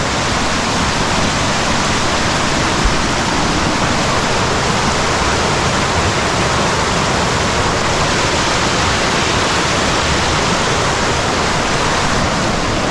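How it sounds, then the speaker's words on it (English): Waterfall and river stream in the Austrian Alps, a steady, dense roar of rushing water close by, unbroken and without voices throughout. "The river streams below, and then up there back to the main path is where is the waterfall."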